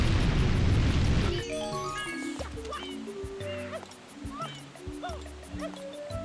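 A burst of spraying water from the water pack in Super Mario Sunshine comes first, followed by bouncy game music and effects.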